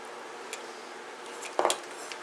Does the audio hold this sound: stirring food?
yes